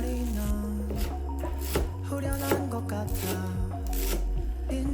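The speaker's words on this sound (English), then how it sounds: "Chop the chives into tiny little pieces as well and add it to the bowl." Fresh spring chives chopped into tiny pieces with a knife on a board, a quick uneven series of crisp close taps over a low steady hum, no talk.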